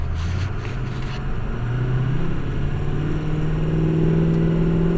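A Ford F550 truck engine idles while warming up, a loud steady rumble with a low hum that rises slightly in pitch, close by and alone.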